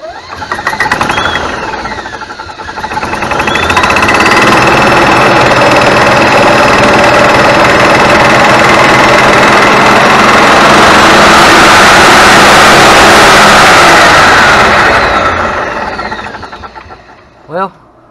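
A golf cart with a repaired starter generator cranks and fires up, its engine rising to a loud steady run that holds for about ten seconds before winding down, with a short knock near the end.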